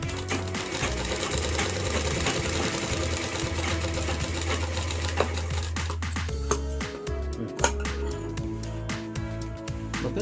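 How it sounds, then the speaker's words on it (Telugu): A sewing machine stitches a half-inch ring on a pair of pants, its loud, continuous mechanical whir running close throughout, with some clicks and knocks toward the end. "మనం 1/2 ఇంచ్ రింగ్ కుట్టేస్తున్నాము"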